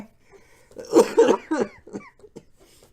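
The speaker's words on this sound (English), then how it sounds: "I'm sorry, I still got a cough" A few harsh, raspy coughs in quick succession, close and fairly loud, then trailing off into breathy throat sounds.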